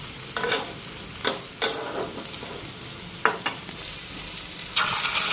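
Eggs fry in a pan, with a low continuous sizzle broken by several sharp, louder spatula scrapes and bursts at irregular intervals, close and clear, with no one speaking.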